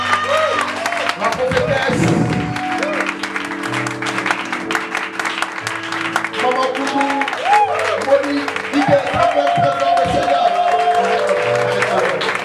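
A church congregation at a Sunday worship service applauds and cheers as a guest is welcomed, giving sustained loud clapping mixed with voices and shouts, and music tones sounding under it.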